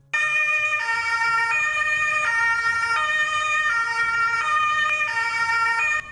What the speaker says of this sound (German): da ist ein Krankenwagen.